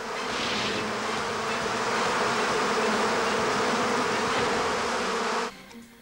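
A huge swarm of over 300,000 bees buzzes in a dense, loud, continuous drone that holds steady, then cuts off abruptly near the end.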